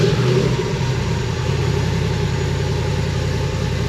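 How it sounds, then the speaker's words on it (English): A 1970 Chevrolet C10 with an LS engine swap cold-starts and settles into a loud, steady, rumbling idle right up close, with no talk over it. "But let's get a fresh cold start."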